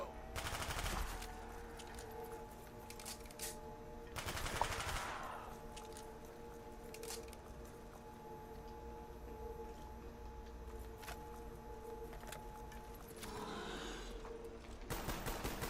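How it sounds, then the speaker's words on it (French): Gunfire rings out in a zombie shooter video game, with a few short rapid volleys spaced several seconds apart over a constant electronic game hum. "je vais gaspiller mes balles"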